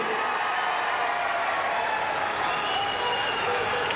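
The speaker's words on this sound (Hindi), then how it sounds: "प्रताप राव पाटिल जी के लिए जोर से ताली बजाइए सबको।" A large crowd applauds at an outdoor political rally in Narsi, Nanded, cheering for a member of parliament. The clapping is dense and continuous, a steady wash of sound at moderate level with no pauses.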